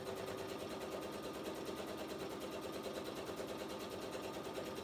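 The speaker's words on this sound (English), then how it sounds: "I'm going to sew this all the way around" A sewing machine runs steadily while stitching around a fabric binder cover, a fast even mechanical whir with rapid rhythmic ticking, quiet and continuous without pauses or talk.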